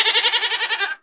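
A single goat gives a loud, close, wavering bleat of about a second, with rapid pulsing tremolo before cutting off.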